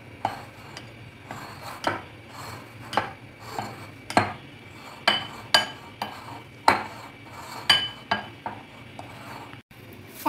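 A hash brown mixture being mixed in a bowl, with a steady run of spoon scrapes and clinks against the dish repeating every half second or so, close and clear, with no talking.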